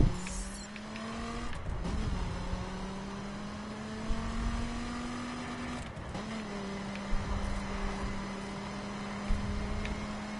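A Viper car drives and drifts in the video game The Crew, its engine a steady sustained drone with pitch dips as it shifts, accompanied by faint clicks and no talk.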